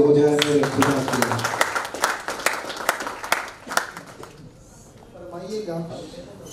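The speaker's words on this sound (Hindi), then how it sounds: "Come on, एक जोरदार ताली हो जाए मेरे खुदा के लिए।" A crowd claps at a birthday celebration, steady rapid applause under a voice talking over it, then fading out as music and singing rise.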